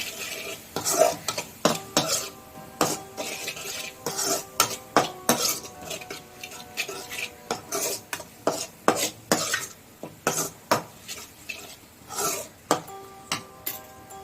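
A utensil stirs and scrapes food around in a metal pot with salt just added, giving a long run of repeated knocks and scrapes in an uneven rhythm over a faint sizzle.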